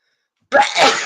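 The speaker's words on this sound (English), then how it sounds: "The daily sneeze always happens." A single loud, close sneeze bursts out after a half-second of silence, a sharp broadband blast that lingers briefly, indoors by a newly opened window.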